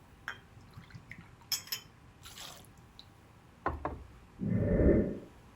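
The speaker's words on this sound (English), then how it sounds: "we are going to add 2 ounces of Hendrick's gin." Hendrick's gin is poured into a cocktail shaker in one short, close splash near the end, after a few light clicks and taps of glassware.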